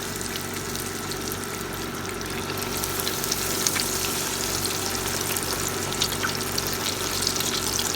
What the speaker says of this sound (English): I'm going to let it, on one side, let it fry for 15 minutes